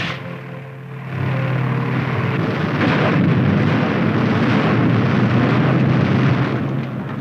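Firing from a 1950s U.S. Army tank's main gun: a loud, heavy boom that swells into a sustained, rumbling roar lasting several seconds, with no voices over it.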